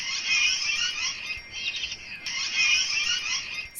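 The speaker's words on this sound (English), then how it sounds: "Several birds such as plum-headed parakeet and babblers visit these trees." Birds in flowering trees in March around Chiplun, among them plum-headed parakeets and babblers, give a steady chorus of high, shrill chirps and squawks that swells, dips briefly and returns, with no voices over it.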